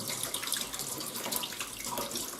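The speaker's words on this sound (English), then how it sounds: "then just some cold water rinsed on them" Cold tap water runs and splashes over raw nettles held in a sieve, a steady close rushing and pattering wash with no voices.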